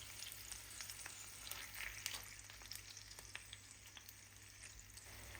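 Frozen spinach sautéing in olive oil in a pan, a constant crackling sizzle with small pops and occasional light stirring, close but fairly quiet over a low steady hum.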